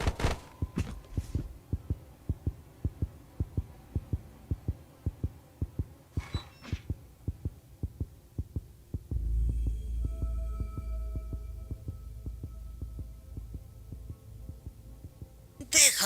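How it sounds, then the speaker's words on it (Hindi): Steady, thumping heartbeat from the horror video game Granny 3, pulsing at a regular rhythm for the first stretch, then giving way to a low droning hum with faint tones, with a short noise at the end. "ओके, दिल की धड़कन बढ़ रही है, जल्द इसे लेकर जाऊंगा।"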